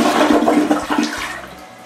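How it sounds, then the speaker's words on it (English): A toilet flushes close by, a loud rushing gush of water that gradually drains away and fades over about two seconds, with no voices. "All right, Joseph, flush it."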